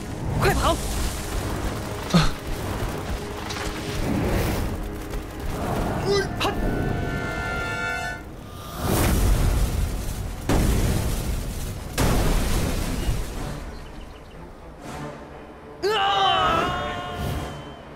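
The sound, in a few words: enemy exploding in the video game Swordsman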